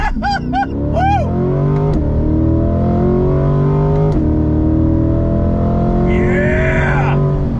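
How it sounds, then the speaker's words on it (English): Lingenfelter-modified 2021 C8 Corvette pulling hard from a dead stop, a loud engine roar climbing through rising revs with brief drops between gear shifts, opening with excited whoops and shouting from people inside the car. "You ready for on throttle from a dead stop?"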